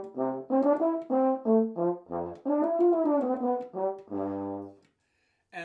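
A French horn plays the opening of a Bach cello suite courante starting on G, a flowing line of short detached and slurred notes, solo and close, ending in silence.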